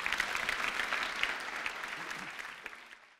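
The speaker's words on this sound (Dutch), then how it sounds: "Graag een applaus voor Jan Oosterwijk." Audience applause for a lecture speaker at a Dutch medical talk on BRCA, steady dense clapping from a seated crowd, fairly soft and distant, fading out toward the end with no talk.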